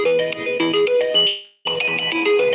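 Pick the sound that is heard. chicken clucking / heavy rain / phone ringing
phone ringing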